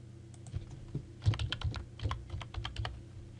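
Someone types a short password on a computer keyboard, producing a quick run of light, close key clicks over a quiet room hum.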